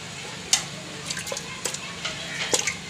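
Two small goat trotters dropped into a pot holding about two kilograms of water, giving a few sharp splashes and sloshes with quieter watery movement between them, close by and without talk.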